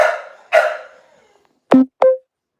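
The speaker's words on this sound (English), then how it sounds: "that's the daughter of the dog that's barking in the background" An American Bully barks in the background: a few short, sharp barks set apart by pauses, moderately loud, with no talking over them.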